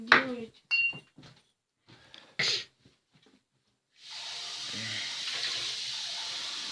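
Water being poured in a room at a house party, a steady hissing wash that starts after some short bumps and knocks and runs on alone to the end.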